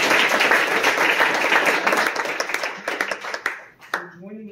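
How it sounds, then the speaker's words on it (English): A crowd at a school board meeting applauds students with dense, lively clapping that thins out and fades, followed by a voice starting to speak at the end. "let's give a round of applause for our students"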